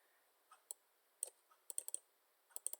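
A computer mouse clicks quietly at close range, with sharp isolated clicks and quick paired double clicks spread across a near-silent background while working in circuit software.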